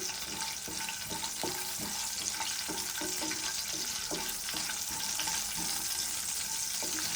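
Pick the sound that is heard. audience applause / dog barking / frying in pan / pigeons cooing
frying in pan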